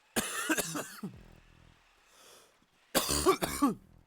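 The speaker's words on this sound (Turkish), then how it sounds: "Çok öksürüyorum ya" Two loud, close bouts of coughing separated by a quiet gap, each a quick cluster of rough hacking bursts.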